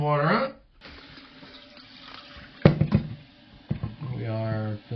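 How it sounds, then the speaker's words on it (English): Water rushing into a toilet tank after a flapper valve replacement, a steady hiss of filling with clunks from the tap being turned, under a voice talking near the start and end. "Let's turn the water on."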